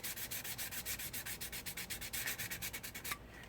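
The bottom of a miniature side skirt is scuffed with a quick, rhythmic back-and-forth rubbing, about six strokes a second, close and steady with no talk, stopping just before the end.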